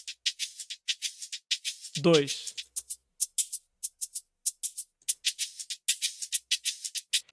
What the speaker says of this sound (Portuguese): Os shakers têm uma maneira de tocar que mal se ouve